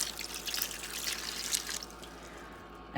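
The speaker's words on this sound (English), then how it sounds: "I'm going to pour in, this is a cup of sherry" A cup of sherry is poured into a turkey roaster holding vegetables. The liquid makes a quiet, close trickle and splash for about two seconds and then thins to a faint dribble.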